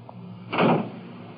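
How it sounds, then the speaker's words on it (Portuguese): A door is shut in a 1970s film scene, giving a single solid thud with a short rumble against a quiet room background. "Fecha a porta."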